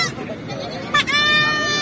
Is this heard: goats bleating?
yes